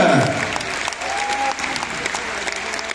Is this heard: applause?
yes